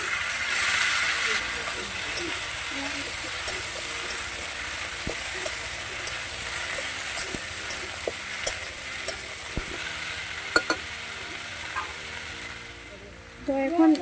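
Cut eggplant drops into potatoes frying in hot oil for a village-style river fish curry, giving a steady loud sizzle and hiss with scattered stirring clinks and scrapes.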